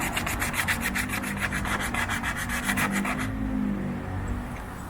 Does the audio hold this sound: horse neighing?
no